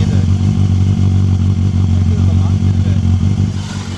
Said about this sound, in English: This has got the standard exhaust, so it's quiet, but you still can hear